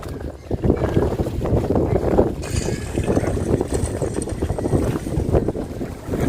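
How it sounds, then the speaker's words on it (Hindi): Wind blows steadily on a lake during a small homemade boat ride, a loud continuous buffeting roar against the microphone with low rumbling and a faint high hiss joining partway through. "सिर्फ हवा की आवाज़ है और कुछ भी नहीं"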